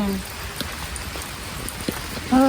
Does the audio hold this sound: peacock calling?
no